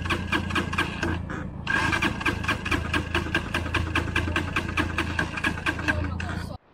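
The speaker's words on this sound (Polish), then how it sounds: "Motor zgasł i nie chce mi zapalić." A motorcycle engine that has stalled, heard in a rapid, rhythmic mechanical chugging as it is cranked and turned over, loud and steady for several seconds before cutting off abruptly near the end.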